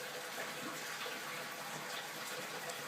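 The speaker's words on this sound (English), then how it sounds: "it takes longer to add water than it does to drain it. But it still fills up pretty fast." Water steadily pouring into a cichlid aquarium during a water change, a continuous close rushing and splashing fill with no pauses and no voices.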